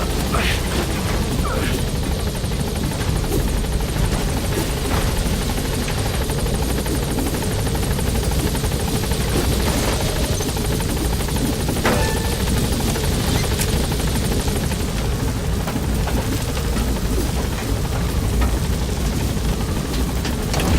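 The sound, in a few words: helicopter arriving in a video game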